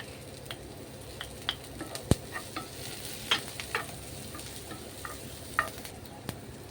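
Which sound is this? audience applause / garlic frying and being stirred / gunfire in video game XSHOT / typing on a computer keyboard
garlic frying and being stirred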